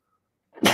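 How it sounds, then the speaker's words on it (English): One sharp, loud sneeze bursts out close by after a moment of silence, short and forceful. "I'm going to sneeze."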